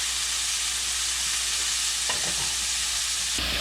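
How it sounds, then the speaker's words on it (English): Butter melting in a saucepan on a breakfast stove makes a steady, loud bubbling sizzle throughout, with a couple of brief knocks near the end and no voices. "we're gonna let that melt up a little bit"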